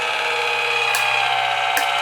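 A Crafter's Companion Gemini Go die-cutting machine runs with a steady, close mechanical whir and faint ongoing rattle, with two brief brighter clicks near the middle and end.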